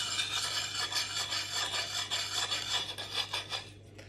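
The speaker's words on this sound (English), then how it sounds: "Keep that lovely high-pitched noise as you're sharpening the blade." Sharpening stone rasped repeatedly along the blade of a bill hook, a bright, high-pitched scraping in quick, even strokes, close and steady with no talk.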